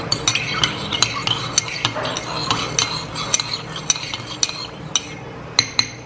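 A spoon stirs sugar into a cup of black coffee, clinking sharply against the cup again and again in an uneven rhythm over a soft swirling background, close and fairly loud.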